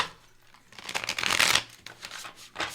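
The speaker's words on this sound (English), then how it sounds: "All right, so let me shuffle this." A deck of tarot cards is shuffled close up, bursts of crisp riffling and flicking that swell to a dense peak, then fade into a few softer slaps and a final short riffle, with no talking.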